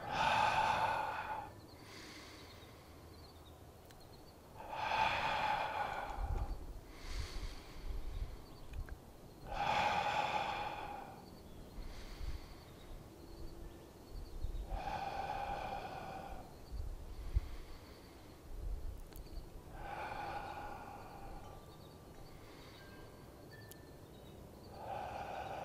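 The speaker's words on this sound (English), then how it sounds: "Breathing in, breathing out, breathing in, breathing out." Slow, deep breathing during a beginner qigong exercise, with long soft inhales and exhales repeating every few seconds, close and gentle against a quiet room.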